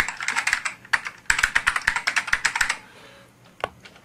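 Fingers type a domain name on a computer keyboard, a brisk run of close, crisp key clicks that stops and then gives way to a couple of final isolated keystrokes.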